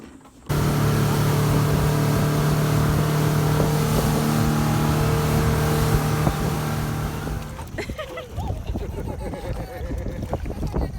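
A boat motor drones steadily at close range at a Brisbane marina with a strong low hum, then cuts off, leaving wind and water noise.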